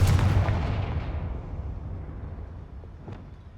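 A Confringo fire spell explodes in Hogwarts Legacy: a loud, close blast at the start, then a long rumbling decay. A faint second thump comes near the end.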